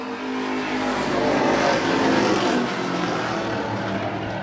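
Stock cars racing at Wiscasset Speedway, a loud, dense engine roar from several cars at once that swells slightly and holds steady as the pack passes close by.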